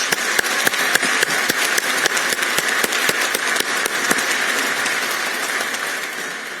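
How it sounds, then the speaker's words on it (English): Sustained audience applause fills a hall after a speech on the Hungarian EU presidency, a dense steady wash of clapping with sharper individual claps standing out, fading slightly toward the end. "They deserve our applause."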